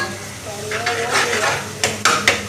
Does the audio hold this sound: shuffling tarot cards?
no